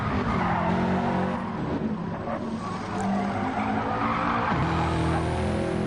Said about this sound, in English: Give these tyres a good workout around that section of the track.